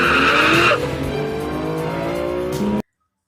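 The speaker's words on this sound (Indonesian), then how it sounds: "langsung terasa mobil Junpyo mengalami selip di tengah pertandingan" A race car in a drama scene skids with a loud, sustained tire squeal over a roaring engine that changes pitch, then the sound cuts off abruptly into silence.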